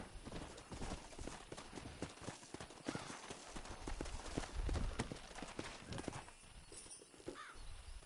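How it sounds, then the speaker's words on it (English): Steady clip-clop of horse hooves trotting along at an even rhythm, fairly close, with a faint ambient game soundtrack underneath, in the video game Red Dead Redemption. "Come on, horse."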